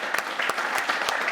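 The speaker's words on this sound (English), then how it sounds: "Worth a clap." Brief round of audience applause at a talk on social impact and collaboration, a short burst of close, crisp clapping from a modest crowd.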